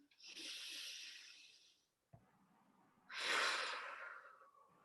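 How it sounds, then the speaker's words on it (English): Two deep breaths taken during a children's breathing exercise, each a long airy inhale or exhale lasting about two seconds, close and fairly loud, separated by a short pause and a soft knock. "we're going to take a deep breath in"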